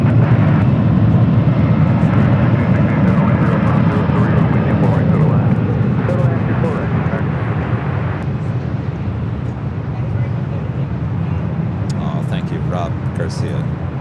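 A brand-new Delta Airlines Airbus A321neo takes off at LAX with a loud, sustained jet roar. The roar is strong from the start and eases slightly as it goes on, with a voice speaking faintly over it.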